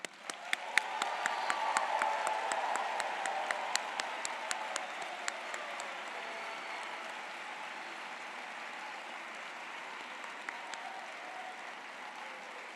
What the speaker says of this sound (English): let's give all our MAE May 2023 graduates another round of applause